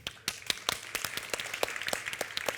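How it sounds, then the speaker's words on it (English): Sparse applause from a small audience at a contractor symposium, with distinct individual claps ringing out irregularly, fairly thin and moderately loud, no speech over it. "we have to give yourself a round of applause also for staying this far"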